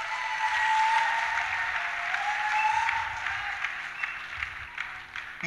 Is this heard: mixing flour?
no